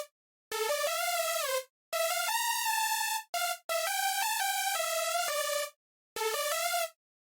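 A bright, buzzy UK hardcore supersaw synth lead with every oscillator raised an octave plays a clean staccato melody of several sustained notes separated by short gaps, loud and alone.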